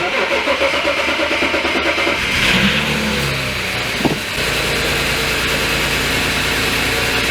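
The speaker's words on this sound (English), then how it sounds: "I'm gonna go ahead and exit out of this and give it a start and see how it runs" A BMW 335i with the N54 engine cranks and fires up after an injector install, revving briefly before settling into a loud, steady idle close by, with no talk.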